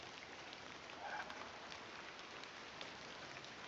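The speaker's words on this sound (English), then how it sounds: "I'm glad the rain doesn't put you off." Steady rain falls throughout in the video game The Excavation of Hob's Barrow, a soft, even hiss of drops on a surface with no talking.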